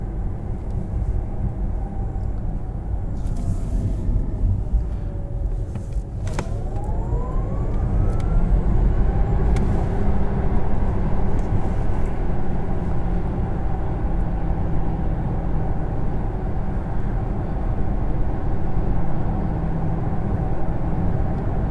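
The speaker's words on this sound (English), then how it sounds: "yeah, you could tell it's an electric car," Interior cabin sound of a 2021 Porsche Taycan 4S electric car on the move: a steady broadband road and wind rumble with a faint rising electric whine that builds and holds, with no voices.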